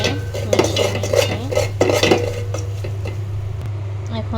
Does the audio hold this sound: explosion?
no